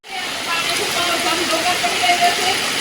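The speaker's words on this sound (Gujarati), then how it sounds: "અને વરસાદ પણ કડામાટ પડી રહ્યો છે" Heavy rain falls in a dense, steady roar that runs unbroken and fairly loud the whole time, with faint tonal traces mixed into the wash.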